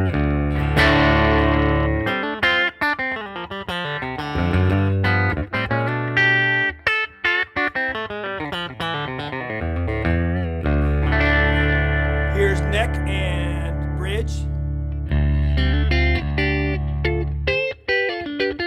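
A Crook Custom gold sparkle T-style electric guitar played on its Barden bridge pickup, with its three-way switch set to the bridge position. It rings out in a continuous run of driven chords and single notes with short gaps, and no voices.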